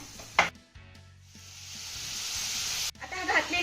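Okra sizzling in a hot pan as tamarind pulp is added: a sudden loud hiss and crackle that swells into steady close frying, with a brief clatter and a faint voice near the end.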